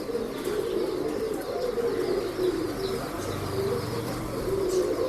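A breeding pigeon cooing softly and repeatedly at close range, low throaty calls over a constant background murmur, with faint chirps from other birds.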